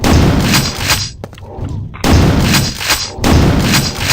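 Loud, heavy gunshots boom in quick bursts, separated by short pauses, with a booming, processed quality typical of game weapons, from Quake 2 Evolved.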